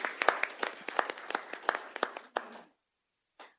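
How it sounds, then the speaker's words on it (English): An audience at an accessibility panel claps for a panelist, a scattered patter of hands with distinct sharp claps, fading out after about two and a half seconds, then silence and one last brief clap. "Please give a round of applause to Bhaskar as well"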